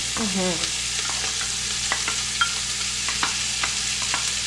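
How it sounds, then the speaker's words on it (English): Onions frying in bacon grease crackle with a steady broadband sizzle, punctuated by occasional stirring clicks and scrapes close by. "Onions and bacon grease. You can't go wrong there."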